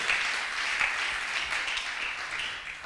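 A church congregation applauds during a French-language worship service, a steady wash of many hands clapping together at moderate volume, without pauses, over nearly three seconds.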